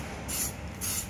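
Two short bursts of rubber paint from a spray can onto a Tata Nexon car, each a sharp airy hiss lasting a quarter second, close and clear over quiet background.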